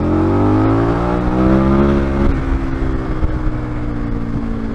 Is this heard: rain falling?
no